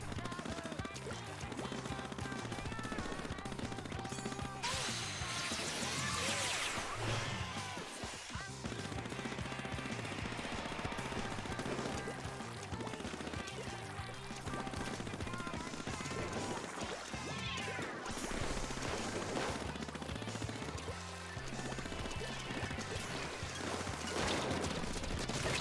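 Sploosh-o-matic shots in Splatoon 2, dense rapid bursts of sputtering fire mixed with splatting impacts and game effects, loud and nearly continuous throughout, with no one talking.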